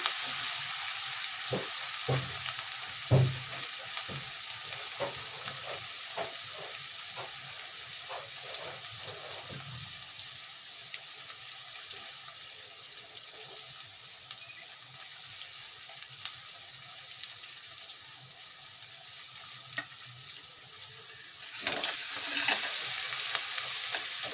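Onions frying in a pan for vangi bath, a steady broadband sizzle that runs the whole time, with scraping and stirring clinks early on and a louder burst of sizzle near the end.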